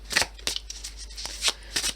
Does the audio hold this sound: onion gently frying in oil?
no